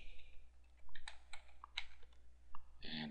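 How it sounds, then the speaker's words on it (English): Computer keyboard keys click in short, quick bursts as a login name is typed in, with light taps close and clear over quiet background. "so we'll type in admin"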